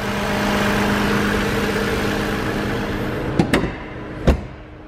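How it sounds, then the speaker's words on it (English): A 2019 Lexus ES350 F-Sport idles with the hood open, a smooth, even engine hum held steadily close to the microphone, followed near the end by a couple of sharp clunks like a door or latch. "It may seem loud on camera, but this engine is actually quiet"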